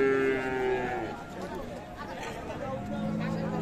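Friesian cows with calves low at the busy Ambari cattle market in Parbatipur, Dinajpur; a loud nearby moo opens, followed by a fainter one, over a steady murmur of crowd chatter.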